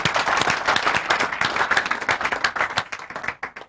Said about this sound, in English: Let's give Ordinary President a bigger round of applause.